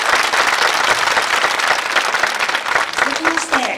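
A crowd claps in sustained applause at a horse racing jockeys' award ceremony, dense and steady, with a voice briefly audible beneath it.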